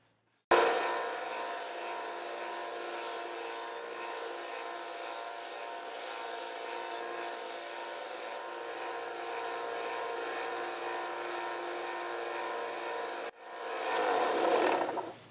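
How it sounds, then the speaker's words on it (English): A homemade steel wedge ground on a power grinder, a steady, loud whining grind that runs for over ten seconds, briefly cuts off, then swells again as the tool spins back up. "I'm gonna take this thing here and grind it up a little bit and try to get an edge on it"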